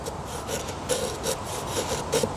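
A kukri machete blade shaves thin curls from a piece of wood for feather sticks, giving a series of short scraping rasps in an uneven rhythm, close up, with no speech.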